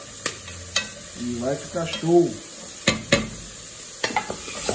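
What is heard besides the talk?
frying dried beef (carne seca) in pork lard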